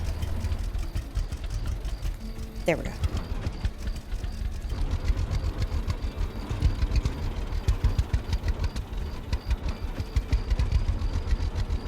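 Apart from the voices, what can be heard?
tractor engine reversing in Farming video game Farmer's Dynasty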